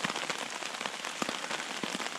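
Rain falls steadily on a campsite during a storm in Table Rock State Park, a close, even patter with scattered heavier drops and taps standing out.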